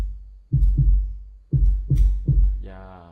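Five deep kick drum hits layered with a booming 808 bass, landing in an uneven rhythm with long low tails, followed by a short buzzy tonal tail at the end; loud and close, with no talking.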